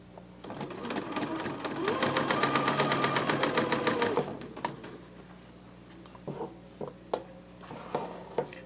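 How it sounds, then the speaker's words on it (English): A home sewing machine stitching fabric for a Santa sack, a fast, steady rhythmic whir of needle strokes for about four seconds, then stopping, followed by scattered soft clicks and handling noises. "That's how I'm sewing without my operational foot being on the"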